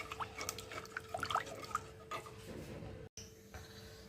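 Strained liquid pours and drips into a cooking pot while making puliyanam, a tangy Kerala curry, with a steady close trickle and scattered drips, quiet throughout and briefly cut out near the end.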